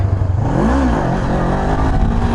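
A Honda CB500F motorcycle engine revving hard during a beginner wheelie attempt, a close, loud mid-range drone that rises in pitch then falls back and holds, with no talk.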